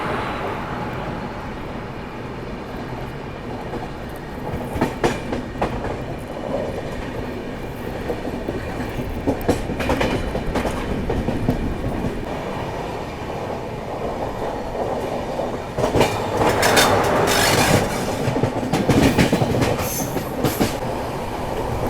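An express train hauled with twin WAG 7 banker locomotives rolls steadily near Kasara station in a continuous loud rumble, broken by rhythmic clickety-clack and occasional wheel squeal, with no speech.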